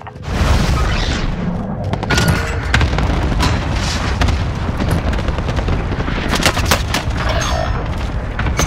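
A cluster bombing in Call of Duty Warzone Pacific pounds on without pause, with dense, loud booms and crackling blasts overlapping continuously alongside rattling gunfire.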